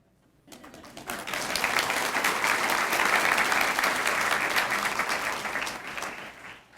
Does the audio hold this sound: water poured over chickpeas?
no